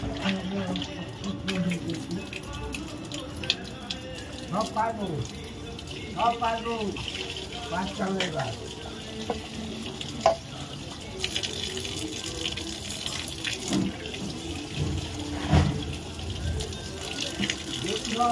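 Water running from a tap for washing clothes, a continuous gush with splashes and clatter, under a voice talking throughout.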